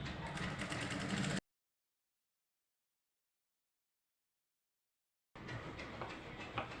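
A domestic sewing machine runs a long basting stitch on a ready-made kurti being fitted at home, a steady mechanical whir in two close bursts separated by a few seconds of silence.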